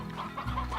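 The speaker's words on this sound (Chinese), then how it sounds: "你们乖乖的待着啊，这些小鸡。" Farm chickens in the video game Slime Rancher cluck in a short burst of soft, repeated clucks, close and clear with no speech.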